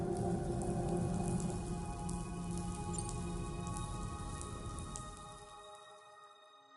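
Rain pours in Death Stranding 2, a dense hiss of drops under sustained ambient tones, loud at first and then tapering off and fading out toward the end, with no voices.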